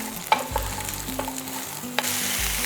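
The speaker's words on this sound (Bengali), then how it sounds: "এরপরে সবজিটাকে একটু হাই ফ্লেমে রেখে ভাজা ভাজা করে নিতে হবে।" Chopped vegetables frying over a high flame in a pan, with a continuous sizzle broken by a few sharp stirring scrapes and clinks, heard up close and alone.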